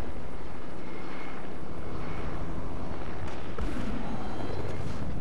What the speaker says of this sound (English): These guys suck at flying helicopters.